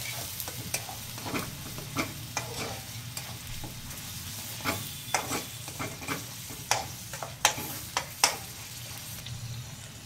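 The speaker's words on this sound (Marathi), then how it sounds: "आता हे वाटणही चांगलं परतून घेऊयात." Ground masala paste sautéing in a pan for prawn biryani, a steady close sizzle broken by frequent sharp spatula scrapes and stirring clicks in an uneven rhythm.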